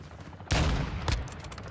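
Call of Duty DMZ gunfire: a sudden loud shot crack bursts in, followed by a second sharp report, then lingering echo over a steady low background.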